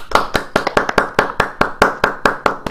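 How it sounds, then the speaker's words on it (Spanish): A small group claps together in a steady, even rhythm, each sharp clap close and distinct, roughly five per second, offered as an energetic round for a guest at a casual at-home music session. "queremos ofrecerte este aplauso con la mejor energía"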